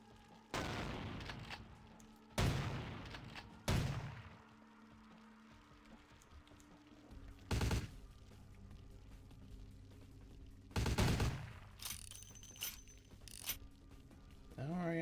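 Gunfire, including shotgun rounds, in Vampire: The Masquerade - Bloodlines: about six loud, sharp blasts at irregular intervals, with mechanical clicks and quieter game noise between shots.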